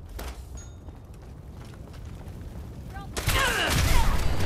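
A sparse firefight in Fallout 4 gives a few distant shots, then a sudden loud burst of rapid gunfire and crackling effects near the end.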